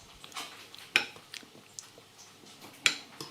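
Baked beans are spooned onto a plate at a kitchen hob, giving a few sharp clinks of metal spoon against crockery with softer scraping and shuffling in between, close by and with no talking.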